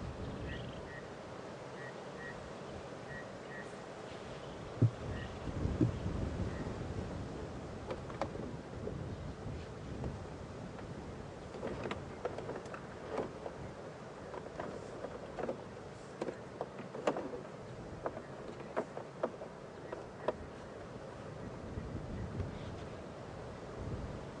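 Steady, soft wind rushes past during a damp, chilly early-morning safari drive at Djuma and Arathusa, joined by scattered faint ticks and knocks, with no voices.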